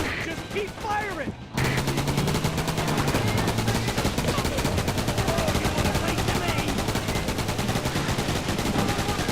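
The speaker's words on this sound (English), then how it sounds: "Just keep firing." Sustained gunfire in the video game Roadkill: rapid, continuous automatic shots with a steady rattling rhythm, loud and close, running unbroken after a brief quieter opening.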